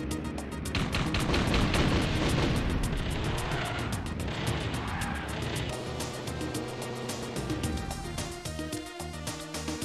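In the Blast Corps video game, a building is demolished with a Ramdozer, producing a dense, sustained roar of crashing rubble and rumbling booms that stays loud and close before easing slightly toward the end.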